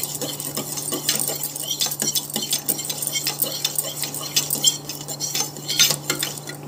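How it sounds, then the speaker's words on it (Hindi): Sugar being stirred into a milk burfi mixture in a pan, with steady scraping and clinking of a spoon against the metal and a continuous low hum underneath, no talking. "अभी चीनी हम डाल दिए हैं, इसको भी इसको मिक्स कर देते हैं।"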